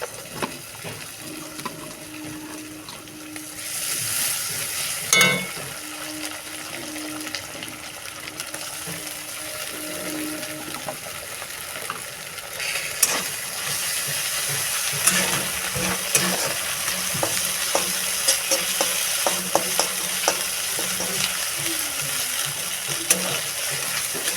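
Ginger garlic paste sizzles in a pan with a moderate, continuous frying hiss and occasional clinks and scrapes of stirring, close by with no speech over a longer stretch.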